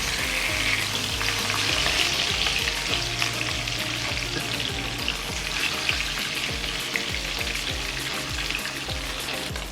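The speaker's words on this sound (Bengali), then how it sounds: "উল্টে অন্য পিঠও ভেজে নেব।" Hilsa fish fries in hot oil, a dense steady sizzle crackling close up with repeated low knocks and scrapes as the pieces are turned over, no voices.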